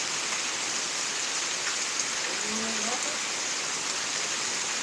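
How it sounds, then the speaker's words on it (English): Heavy rain pours steadily during a thunderstorm in Pittsburg, Kansas, a dense, continuous hiss that stays loud throughout, with a faint voice briefly audible beneath it. "It's pouring down rain."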